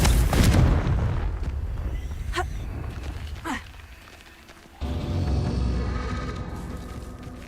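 Confringo fire spell explosions in the video game Hogwarts Legacy: loud, booming blasts with rumbling tails and a couple of short whooshing casts, rising again into a sustained roar near the end.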